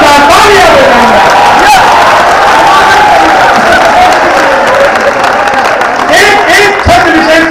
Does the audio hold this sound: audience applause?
yes